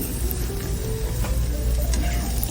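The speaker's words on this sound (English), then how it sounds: "Just going to give that a good stir so those onions can start caramelizing." Chopped onion in extra virgin olive oil in a non-stick sauté pan, producing a continuous low sizzle with a few faint clicks from stirring and no speech.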